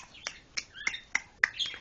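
A bird chirps in a comedy commercial, a quick series of five or six short, sharp tweets at an even pace, close and alone.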